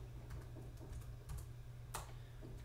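Quick keystrokes on a computer keyboard while entering a Firefox address, a string of light, close clicks in an uneven rhythm over a steady low room hum.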